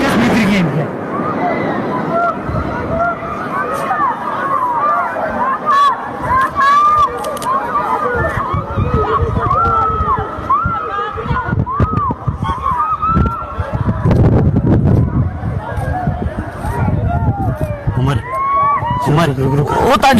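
A panicked crowd shouts and screams during a terror attack in Pahalgam, with a dense, constant babble of frantic voices and bursts of loud noise underneath, close and chaotic throughout.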